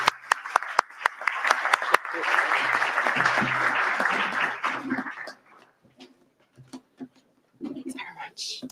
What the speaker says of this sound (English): So do join me in the round of applause.